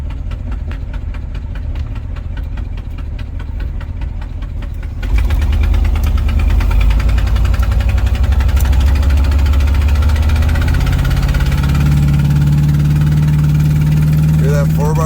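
A restored motorhome's engine idles with a steady low rumble that swells louder and fuller midway through as it catches and runs harder, with a voice speaking over it.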